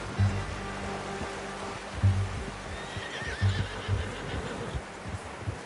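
A horse in the Red Dead Redemption video game whinnies over soft clip-clopping hooves and a wet, rain-like ambient bed, with a few louder hoof thumps at intervals.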